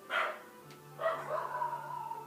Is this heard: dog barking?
yes